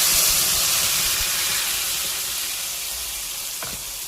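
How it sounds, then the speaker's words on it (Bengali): Ginger, tomato and green chilli paste poured into hot oil for a vegetarian potato and cauliflower curry gives a loud, steady sizzle and hiss that fades slowly, with a brief clink of utensil near the end. "এই পেস্টটা তেলের মধ্যে ঢেলে দেব।"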